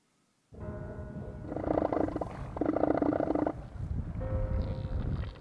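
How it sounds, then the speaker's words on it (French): Elephant seals roaring in the Antarctic, played back from a video, with three long, loud guttural bursts in sequence and a rumbling growl between them, no talking over it. "Ce sont des éléphants de mer."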